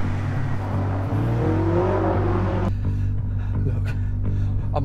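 Car in the video game Late Shift, a steady engine drone with a rising rev for a few seconds that then drops away to a quieter idle with faint clicks.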